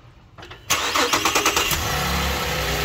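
A Holden VE Commodore engine cranks briefly and catches, then settles into a steady, loud idle with a few surging pulses as it starts up during a transmission service.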